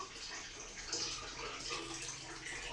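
Running water rinses a baby's milk bottle, a steady broadband hiss of flowing tap water with faint splashy variation, continuous and fairly close throughout.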